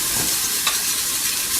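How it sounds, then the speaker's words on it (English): Abalone sautéing quickly in very hot sesame oil, a dense, even hiss of frying with a brief sharp crackle partway through, close and fairly loud, no talking. "I'll put the abalone in. That's what I want. I want it nice and hot. We're going to saute that off quickly."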